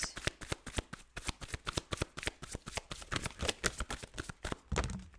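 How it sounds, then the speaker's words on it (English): Tarot cards are riffled and shuffled rapidly and close up, a quick crackling flutter of many snaps, with no voices. "we're going to shuffle again"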